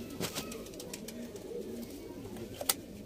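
Banded racing pigeons being stamped before a release coo softly in low, repeated murmurs, with a few sharp clicks and rustles over quiet background, no clear talking.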